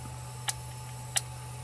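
Two sharp, separate clicks from a DSLR camera's shutter speed dial, close and crisp over a steady low hum.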